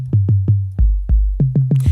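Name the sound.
sine-like bass from Rob Papen Sub Boom Bass plugin, default preset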